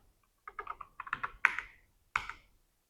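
Python code is typed on a computer keyboard in quick clusters of crisp, close keystrokes, with a brief pause before a final short burst and no talking.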